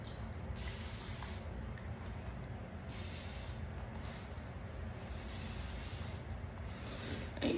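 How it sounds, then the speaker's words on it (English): A spray bottle mists water onto hair in a steady, faint hiss that runs almost unbroken, with a few short pauses and no talking. "I got my spray bottle."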